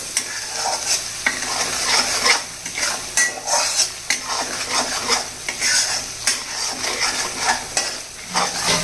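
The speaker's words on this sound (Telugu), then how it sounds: "వేసి ఇలా కలుపుతూ వేయించాలి" Chicken with turmeric and salt frying in a pan while being stirred, with loud sizzling and repeated scraping and clinking of a utensil against the pan in an uneven rhythm, close up and without talk.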